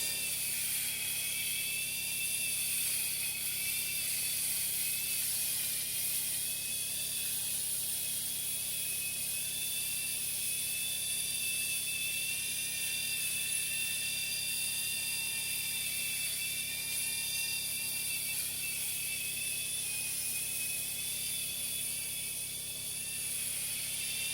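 A Gisaae electric head shaver cuts hair on the back of a head, where the hair is coarser and the blades strain. It makes a steady, close, high-pitched mechanical buzz that runs unbroken for the whole stretch.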